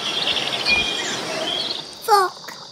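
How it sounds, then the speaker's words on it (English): A toy plays a recorded bird call: a short burst of chirps late in the clip, standing out over a steady background hiss. "It's a noisy bird."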